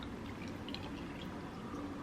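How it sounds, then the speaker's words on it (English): Cold brew coffee pours into a cup, producing a brief, steady liquid splash and trickle heard up close and on its own. "you're going to pour your coffee, which mine is cold brew"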